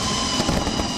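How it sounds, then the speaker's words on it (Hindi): Dense, continuous crackling and popping of New Year 2023 fireworks fills the air, with a faint high tone running steadily underneath. "कहीं आतिशबाजी हुई"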